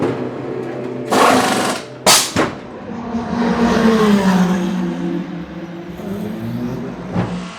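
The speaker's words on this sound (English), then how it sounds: "So we're inside the Lamborghini garage, and they're about to do a pit stop." Lamborghini race car in the garage during a pit stop, with loud bursts of air-gun and mechanical work noise, sharp clanks, and a steady engine-like drone throughout.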